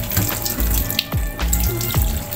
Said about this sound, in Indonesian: Ini aku cuci sampai bersih ya.